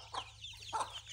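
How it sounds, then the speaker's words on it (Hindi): Aseel chickens and chicks clucking, two short faint clucks close together over a low background hum, with no talk. "ये मुर्गी केड़ी नस्ल दी है? असील है।"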